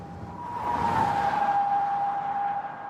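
An old Jaguar car accelerating steadily, a sustained engine tone rising and holding loud and close for a few seconds with no talk.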